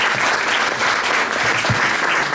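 Sustained applause from an audience at a comic release party, a dense even wash of clapping held at full strength, with a faint murmur of voices underneath.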